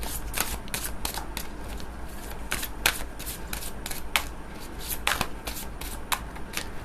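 Tarot cards riffled and shuffled by hand in quick repeated bursts, crisp papery flutters close up in a quiet room with no talking.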